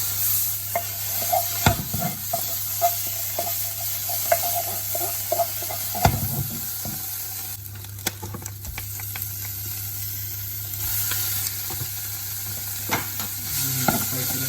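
Onion, garlic and tomato paste sizzle steadily in a pan for a moussaka base, with a constant frying hiss broken by repeated clicks and scrapes of stirring.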